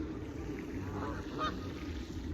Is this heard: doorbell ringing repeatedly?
no